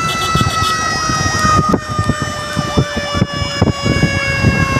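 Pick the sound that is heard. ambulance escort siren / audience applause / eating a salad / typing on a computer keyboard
ambulance escort siren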